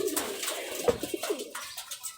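Pigeons kept by a local fancier in Rajshahi coo in a string of soft, throaty rolling calls, fairly close and moderately loud, with no talk over them.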